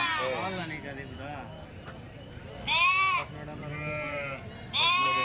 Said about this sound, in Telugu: ఇవి గొర్రెలు